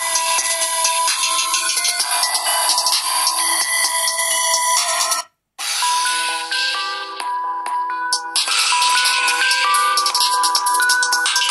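Music blasts from a Moto E6 Plus or Nokia 7.2 smartphone loudspeaker with a volume booster applied, loud and bright with a thin low end, broken by a brief half-second gap midway before the track resumes.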